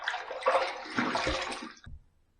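Water runs and splashes close by as a face is rinsed after a wet shave, a steady gushing that cuts off near the end.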